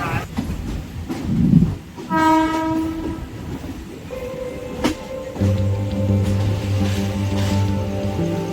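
A Mumbai local train rolls along with a steady rumble and rail clatter, and a loud horn blast sounds partway through, heard from aboard the train.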